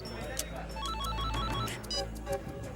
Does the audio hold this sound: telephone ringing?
yes